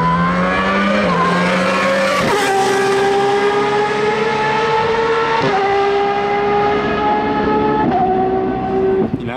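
A race car pulling away and zigzagging to warm its tyres: a loud, close engine whine climbing through the gears, its pitch rising then dropping at each shift, with no talk.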